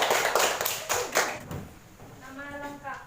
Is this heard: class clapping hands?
yes